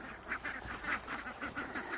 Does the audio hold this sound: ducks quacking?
yes